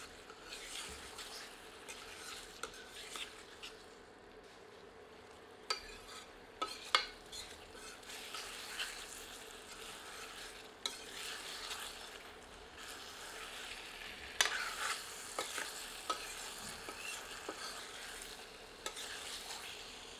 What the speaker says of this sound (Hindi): आंच तीव्र कर लेते हैं और चिकन में दही को मिलाकर 3 से 4 मिनट